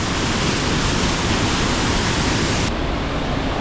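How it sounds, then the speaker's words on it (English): Waterfall near Lake Bled, Slovenia, roaring up close as a steady, loud, dense rush of falling water with spray, continuous throughout and without speech. "You can feel the spray from the waterfall all on your face."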